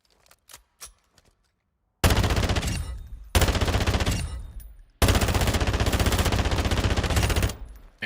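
A submachine gun with a 60-round magazine fires in the Call of Duty DMZ video game. A few light clicks come first, then three loud, sustained full-auto bursts of rapid gunfire, close and dominant.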